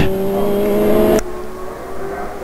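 A Formula Super Vee race car engine screams at high revs with a steady, loud whine, then drops abruptly in pitch and volume at a gear change, recorded on board at Buttonwillow during a vintage race.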